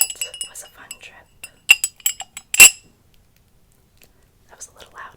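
Fingertips tap and clink on a ceramic mug in quick light bursts with one louder knock, then a few soft taps, mixed with close whispering.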